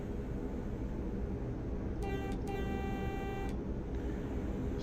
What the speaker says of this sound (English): And sound the horn twice.